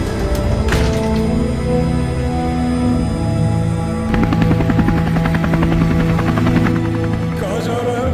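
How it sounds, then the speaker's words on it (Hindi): A private helicopter flies steadily nearby, its rotor and engine drone continuous and loud throughout, with a few faint mechanical clanks in the background and no speech. "Private helicopter."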